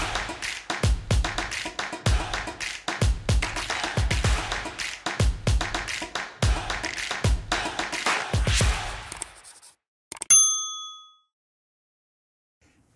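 A single bright bell ding rings out clearly near the end, alone after a stretch of rhythmic percussive music, its tone ringing briefly before fading to silence.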